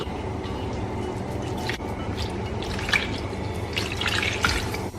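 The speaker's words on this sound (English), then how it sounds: "I'm just gonna add a tiny bit of water" A small splash of water poured into a pan of rinsed vegetables on the stove gives a steady close-up dripping, trickling patter that runs for about five seconds with no voice over it.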